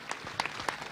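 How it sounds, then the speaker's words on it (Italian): A crowd applauds at the Palio das Cjarogules cart-building contest in Paluzza, a brief burst of dense clapping with a few sharper claps standing out. "l'applauso di tutta la folle."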